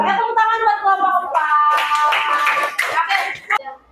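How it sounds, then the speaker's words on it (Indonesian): Classroom clapping for a student group during a school lesson: loud voices and cheering open the moment, then a burst of many hands clapping rises in the middle before tapering off near the end. "Tepuk tangan buat kelompok"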